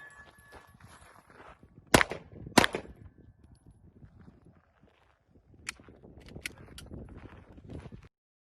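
Gunshots at a gun range: two sharp, loud reports close together, then a quieter cluster of shots a few seconds later, with faint shuffling and handling noise between them.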